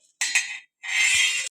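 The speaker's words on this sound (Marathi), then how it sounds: "आता आपले मसाले भाजून झाले ते एका ताटामध्ये काढते." Roasted whole spices tipped from a pan onto a metal plate for a mughlai chicken recipe, giving two short bursts of bright metallic scraping and clinking, close and fairly loud, with a brief pause between.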